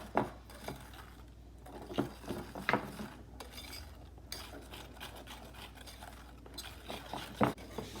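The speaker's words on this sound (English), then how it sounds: "And we'll give this a good mix." Chocolate chip cookie dough mixed by hand in a bowl, with a utensil scraping and clinking against the sides in irregular strokes and occasional sharper taps, close and fairly quiet.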